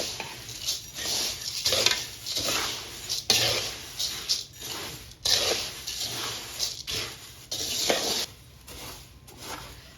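Poha chevda being tossed with sev in a pan, a steady run of dry rustling and scraping strokes with light metallic clinks, fairly close and continuous with no talk.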